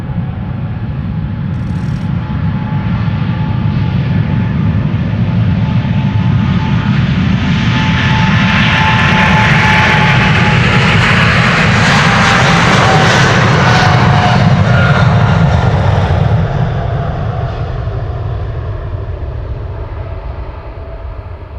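A KLM jet airliner departing Amsterdam Schiphol for Sao Paulo roars loudly and steadily, the engine noise building to a broad peak as it passes close by, then slowly fading.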